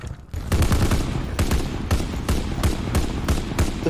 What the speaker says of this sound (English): I'm gonna start shooting at him.